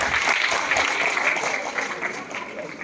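Students and guests at a government senior secondary school awards ceremony for top Class 12 arts scorers break into loud, dense applause, a continuous crowd of clapping that holds for a few seconds before easing slightly.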